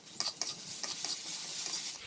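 Jackfruit seeds with garlic and onion paste stirred and frying in a pan, a soft steady sizzle broken by a few sharper scrapes of a spatula against the pan near the start.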